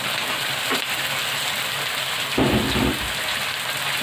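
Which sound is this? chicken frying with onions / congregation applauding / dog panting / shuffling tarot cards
chicken frying with onions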